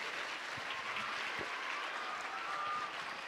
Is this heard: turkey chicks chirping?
no